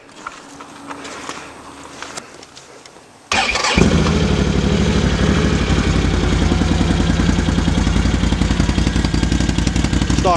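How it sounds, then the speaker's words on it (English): A 2016 Can-Am Outlander XMR 850 ATV engine through its stock muffler starts up about three seconds in and then idles loudly and steadily with a close, throbbing rumble. "Stock muffler sounds pretty good."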